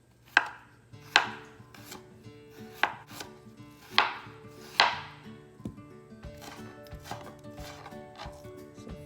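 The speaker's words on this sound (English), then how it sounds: "Now you will slice some ginger." A knife slices through ginger on a cutting board, a series of sharp, close chops in an uneven rhythm, about eight distinct strokes, the later ones softer and quicker, with no talking.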